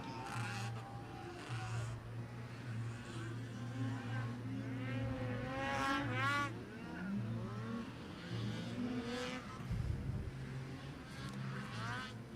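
Race cars circle the track at ERX Motor Park during a Sunday racing event, engines droning steadily with rising and falling pitch as cars pass, heard under continuous commentary from an announcer.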